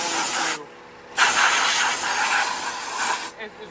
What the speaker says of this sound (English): when you use your air nozzle, you use the proper pressure on the air nozzle